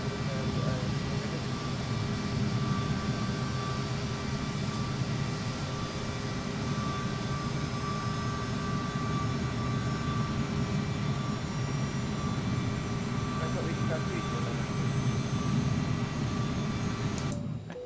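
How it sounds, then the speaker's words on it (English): A Bombardier CRJ7 regional jet's engine runs up inside the cabin before a Manchester to London City flight, a loud, steady roaring drone with thin tonal whines layered above, unbroken throughout. "Start engine number 2."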